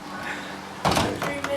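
A door opens with a brief thump and a short scrape partway through, over a steady indoor background hum with a faint voice nearby.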